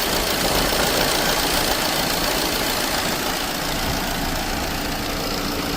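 A warm Opel Corsa D engine runs steadily with a faulty alternator (charging dynamo) pulley, giving a continuous, fairly loud mechanical drone with a knocking edge throughout and no talking.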